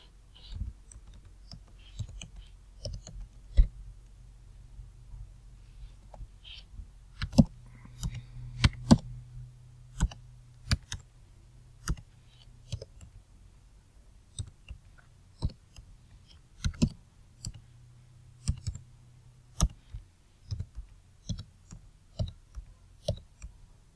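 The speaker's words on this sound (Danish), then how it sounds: "I det Excel-dokument, der taster man sine observationer." Someone types observations into an Excel spreadsheet on a computer keyboard, giving irregular clicking keystrokes, some in quick bursts and some spaced apart, close and fairly faint, over a low steady hum with no talking.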